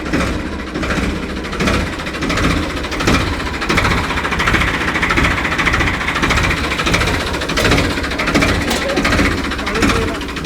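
A Ford 3600 tractor's diesel engine idles with a steady, rough, knocking chug throughout, loud and close, while people talk over it.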